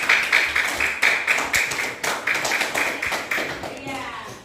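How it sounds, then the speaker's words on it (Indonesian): Schoolchildren in a classroom clap together in a quick, rhythmic burst, loud and close, with faint young voices mixed in. "kita beri tepuk tangan dulu."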